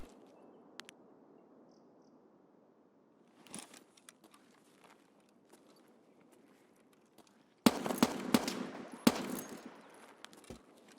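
Enemy gunshots in Escape From Tarkov, a burst of sharp cracks around the eighth second followed by several more shots, ringing out over a quiet outdoor ambience with faint rustling and footsteps.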